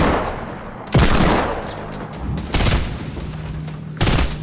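Grenade explosions in the Fortnite video game: three sharp, loud broadband booms about every one and a half seconds, each trailing off into rumbling game noise, with no talking.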